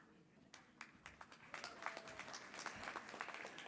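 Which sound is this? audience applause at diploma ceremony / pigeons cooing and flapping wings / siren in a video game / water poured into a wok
audience applause at diploma ceremony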